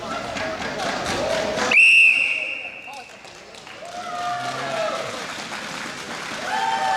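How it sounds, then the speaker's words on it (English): A referee's whistle blows once, sharp and shrill, at a power hockey game between Calgary and Toronto, rising over steady arena crowd noise with other game sounds around it. "Got a whistle here."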